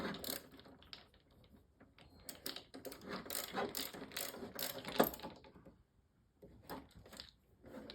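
A ratchet or socket wrench tightens a bolt on a tilting TV wall mount from Onn, giving close, quiet bursts of rapid clicking that pause and resume, with a short gap of near silence before the clicks return.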